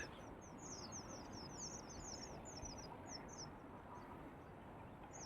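Birds perched outdoors at dusk, giving a run of faint, high, rapid chirping calls above a steady broad outdoor rumble.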